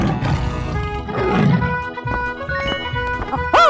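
Tiger roar in a 3D animal video game, a rough, rising growl over cheerful game music, ending with a bright chime.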